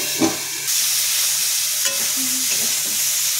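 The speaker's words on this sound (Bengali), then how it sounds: "একটু তেল দিয়ে ধীরে ধীরে ভেজে নেব" Cauliflower fries slowly in a little oil, with a close, constant sizzling hiss broken by a few spatula taps and scrapes against the pan.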